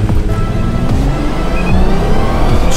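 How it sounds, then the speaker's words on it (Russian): Lada Granta engine revving hard and steady at high RPM before a launch, loud and close with rising, falling harmonic sweeps, no talking. "чтобы сильнее нажимать тормоз, чтобы сильнее раскрутить мотор"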